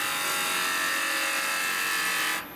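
A bowl gouge cuts a tenon on a piece of wood spinning on a lathe, giving a steady, loud, continuous hissing scrape that stops abruptly near the end, with no voices.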